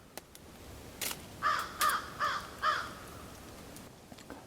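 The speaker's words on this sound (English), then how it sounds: "Hear the crows?" Several crows caw above a campsite, a run of four distinct, evenly spaced harsh calls from nearby trees over quiet outdoor background, with a few faint clicks before and after.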